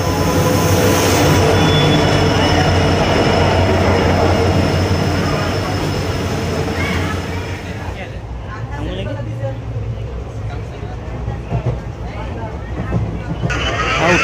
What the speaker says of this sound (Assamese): এইখন ট্ৰেইন আহি গ'ল